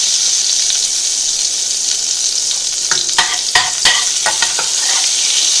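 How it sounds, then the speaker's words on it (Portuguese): Butter melting and sizzling in a stainless steel pan, a loud continuous hiss, joined midway by a stainless steel spoon scraping and tapping the pan several times. "A manteiga já está derretendo"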